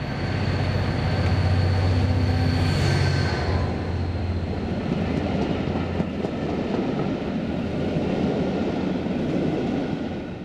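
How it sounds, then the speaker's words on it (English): A Class 57 diesel locomotive leads a charter train out of Shrewsbury station, a steady rumbling engine drone with rolling wheel noise that holds moderately loud throughout, with no talk. "Here, 57601 leads on a charter from Carnforth to Haverfordwest as it departs Shrewsbury"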